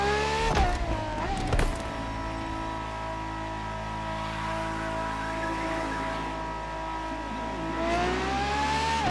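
Ferrari FXXK hypercar engine in The Crew Motorfest racing game, a loud continuous drone with pitch sweeping up at the start, holding steady, then rising again near the end, no voices.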